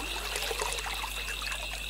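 A small stream trickles and babbles steadily over a soft background hiss, a gentle continuous flow of water close by with no voices.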